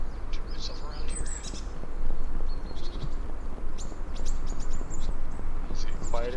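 Ambient birdsong from the video game Braveland, scattered chirps and tweets over a steady hiss of background texture, with a voice talking underneath.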